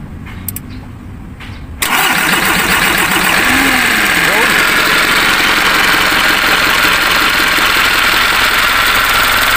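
A Mitsubishi 4M51 diesel engine cranks and catches after a short quiet stretch with voices, then settles into a loud, steady, close idle with a hard clatter.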